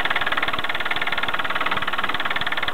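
A 1953 Mamod MM2 toy steam engine runs with a fast, steady chuffing and knocking beat, loud and close, with a continuous hiss and no talk.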